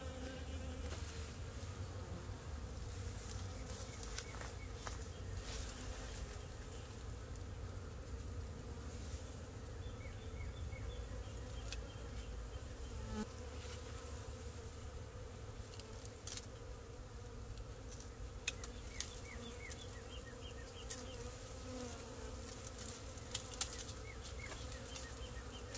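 A honeybee swarm hums and buzzes around a virgin queen, a dense, continuous drone of many wings with individual bees zipping past close by now and then, no talking.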